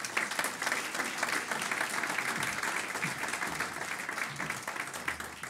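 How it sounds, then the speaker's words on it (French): Sustained audience applause fills a public campaign meeting as a guest is welcomed to the stage, dense, steady clapping from a sizable crowd lasting throughout without a break. "je vous demande donc d'applaudir Michel Martin qui va nous rejoindre"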